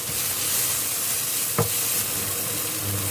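Curry paste for stir-fried sator beans with shrimp paste sizzles steadily in a hot pan, with one brief clatter of stirring near the middle and no voices.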